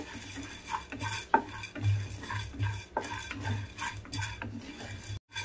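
Chana dal and urad dal roast in a pan with quiet, rhythmic scraping and stirring from a utensil, faint sizzling underneath and a few light clinks, with no talking.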